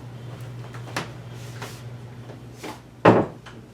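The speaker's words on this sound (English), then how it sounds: "close the door" A door bumps shut indoors in a craft room, a sharp close-range knock after a few softer thuds and rustles, heard alone with no voices.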